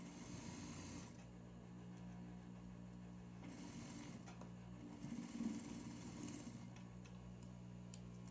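Sewing machine stitching the waist seam of suit pants, a steady droning motor hum broken by short stops and restarts, close and fairly quiet.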